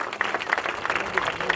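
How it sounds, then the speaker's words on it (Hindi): Audience clapping at a welcome ceremony honoring boxer Tamanna; brisk crowd applause with some sharper individual claps, voices mixed in underneath throughout the brief stretch. "भगवान ने हाथ दिए सबको तालियां बजा सकते हैं।"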